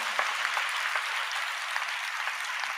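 A church congregation claps continuously during a sermon, a dense, even patter of many hands that is moderately loud and steady throughout, with no speech over it.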